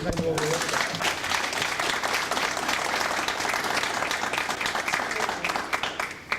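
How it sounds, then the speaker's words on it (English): Steady, dense applause from a room of attendees at a town board meeting, sustained at even loudness throughout with crisp individual claps audible in the mix. "I think we ought to give Jerry a good round of applause for the excellent job he's done."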